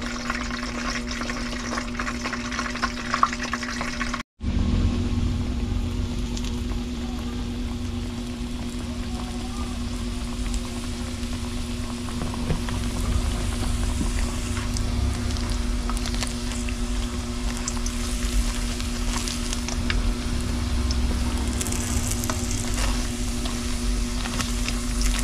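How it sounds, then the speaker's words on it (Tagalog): Cordon bleu frying in a pan on low heat gives a steady soft sizzle and crackle that continues evenly, close and moderately loud, with a brief dropout early on. "at ipiprito ang cordon bleu. Let's watch this. Lutuin lang natin ng low fire para hanggang loob nito."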